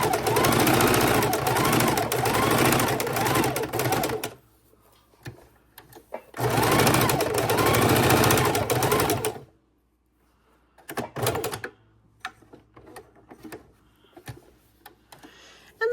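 A sewing machine stitches through layered fabric and rubber mat edging, running in two long steady bursts with a pause between, then a few short stitching spurts and quiet handling sounds.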